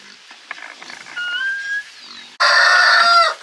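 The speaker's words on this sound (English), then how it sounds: "Here comes the pig to see what we're doing." A pig in a barn makes a series of high squealing grunts, quieter at first, then a louder, harsher burst near the end, with no talking.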